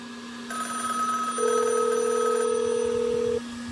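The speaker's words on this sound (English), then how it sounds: "Okay, I'm gonna answer the call." A telephone rings on a call placed over a satellite internet link, with steady electronic ring tones layered over a constant hum and no voices.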